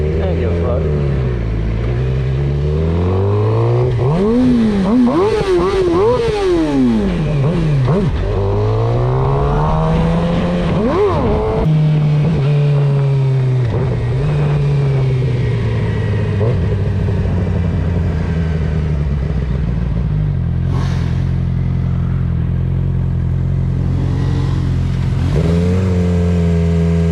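Motorcycles at bike night near Tampa's Gandy Bridge roar close by, engines revving up and down in swooping passes, then holding a steady drone, with a voice talking over the noise at times.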